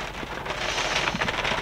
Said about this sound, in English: Y'all, it is so cold outside and it's raining.